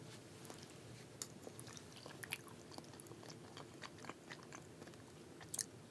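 Quiet, close chewing of hot chocolate jello with cinnamon, soft wet bites and a few crisp clicks spread across the moment, ending in a couple of sharper smacks, with no talk.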